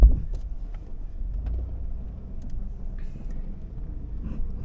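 Jeep Liberty crawling up an off-road hill in first gear and 4 low, its engine a steady low rumble with some wind buffeting on the microphone, continuous and moderately loud with no talk.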